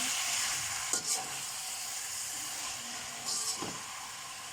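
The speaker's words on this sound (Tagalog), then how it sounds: "lalagay na natin ang kangkong. Ito. Ayan. Gigisa natin siya." Kangkong (water spinach) sautéing in a pan with a steady, close sizzle and hiss, broken by a couple of brief stirring scrapes near the start and again toward the end.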